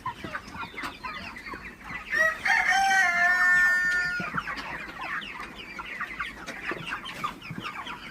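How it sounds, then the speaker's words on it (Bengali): Broiler chickens cluck and squawk in a dense, steady flock chatter, with a louder drawn-out cackle rising over the rest partway through. "মুরগিগুলাকে একটু তাড়াই দিচ্ছি"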